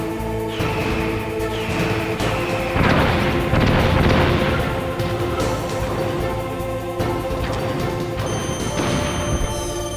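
Weapon fire and explosions from the Metal Gear Solid video game, a string of heavy booms and crashes over a sustained rumbling, with bursts recurring throughout and no voices.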